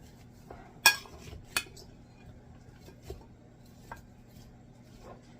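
Cutlery clinks and scrapes against a pan while sausage, Brussels sprouts and sweet potatoes are tossed together for a one-pan meal; a sharp clatter, then a few lighter knocks fade into quiet room tone.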